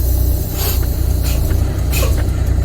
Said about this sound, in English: release your brakes